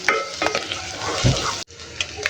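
Small cut-up pieces of meat sizzle loudly in a pan close by, with scraping and stirring clatter, a brief dull thump and a short pause before the frying carries on.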